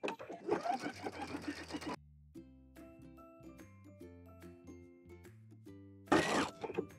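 A home sewing machine with a gathering foot runs a long stitch through fabric for an apron ruffle, whirring rapidly in two loud bursts at the start and end, with quiet tinkling notes between them.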